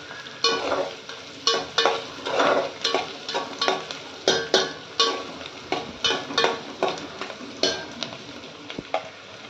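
Chopped onion and tomato sizzle in a pan while a spoon scrapes and stirs them in repeated rhythmic strokes, each stir briefly swelling the frying hiss, close and moderately quiet.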